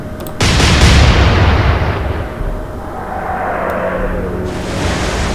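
Warship guns firing in Atlantic Fleet, a German naval battle: a heavy close boom opens into a long rolling rumble that slowly fades, with a second softer swell near the end.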